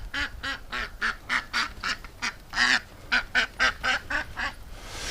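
Ducks in a dry pen quack in a rapid run of loud, nasal calls, about fifteen bursts in quick succession, some overlapping, close by.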